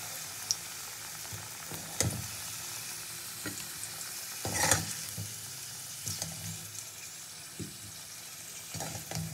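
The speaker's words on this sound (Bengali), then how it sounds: "এই তেলে বেগুনটাকেও একটু ভেজে নেবো।" Eggplant fries in hot oil with a soft, constant sizzle, quiet overall, punctuated by occasional clinks and scrapes of a utensil in the pan.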